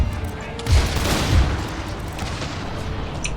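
Musket volley fire in Empire Total War: a dense, continuous rolling crackle of massed distant shots with low booms swelling through it.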